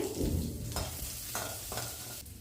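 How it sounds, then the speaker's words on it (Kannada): A medium chopped onion fries in a spoonful of oil in a pot on a stove, giving a steady close sizzle broken by several stirring scrapes at regular intervals. "ಒಂದು ಸ್ಪೂನಷ್ಟು ಆಯಿಲ್ನ ಹಾಕ್ಕೊಂಡು ಒಂದು ಮೀಡಿಯಮ್ ಸೈಜ್ ಈರುಳ್ಳಿನ ಕಟ್ ಮಾಡಿ ಫ್ರೈ ಮಾಡ್ಕೋತಾ ಇದ್ದೀನಿ"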